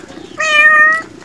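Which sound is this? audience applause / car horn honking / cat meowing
cat meowing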